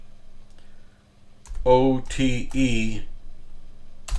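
Computer keyboard typing while entering a ladder logic rung in a PLC text editor, a few soft clicks under a voice speaking briefly in the middle.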